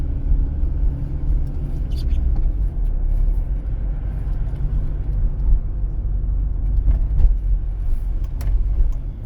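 Car cruising in second gear along a city street during a driving exam route in Khmelnytskyi, with a steady low engine and road rumble from inside the cabin throughout.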